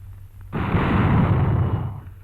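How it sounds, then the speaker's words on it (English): A mortar round exploding in a wartime combat setting: one loud, broad blast that bursts in suddenly and roars on for about a second and a half before cutting off, with nothing else over it. "A mortar."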